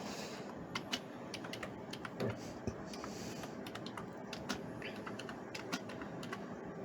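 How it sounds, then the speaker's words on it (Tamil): Typing on a computer keyboard while entering an accounting journal entry in Tally Prime, with steady, moderately close clicking key taps and a few louder strokes over faint room noise. "வேணும்னா நீங்கள் டைப் பண்ணிக்கலாம்."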